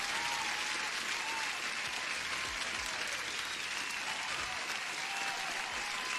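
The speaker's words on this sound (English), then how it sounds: "Applause to you, my man" Applause sound effect dropped into a live futures and forex trading stream, a steady dense wash of clapping running the full length at moderate level with no talk over it.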